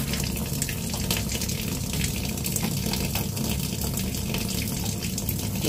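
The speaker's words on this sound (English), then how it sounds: "I'm going to let the hot water run for a little bit" Hot water runs from a tap in a steady, loud gush that pours continuously with no break and no voices.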